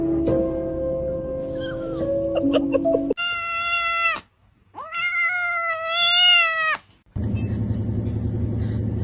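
A cat gives two long, loud, close meows with wavering pitch, separated by a brief gap, after a stretch of tonal background noise and before a low rumbling hum returns.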